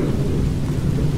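Deep rolling thunder from a lightning storm in a video game, a loud continuous rumble with a rain-like hiss over it.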